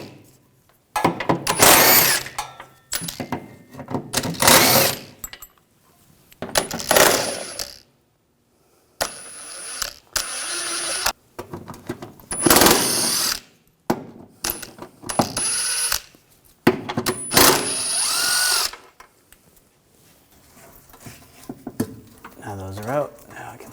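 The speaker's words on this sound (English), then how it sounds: "And then we're going to take all these bolts out. Using a 16mm socket," Ratcheting and clinking from a 16mm socket wrench as bolts come out of a bracket under a 2007-2013 BMW X5 3.0L, in repeated bursts with short pauses between, close and fairly loud.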